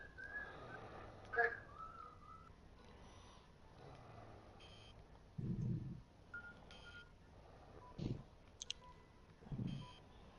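Someone whistles faintly over a PS4 game chat mic in NBA 2K19, a thin tune with scattered beeps and bursts of low mic noise.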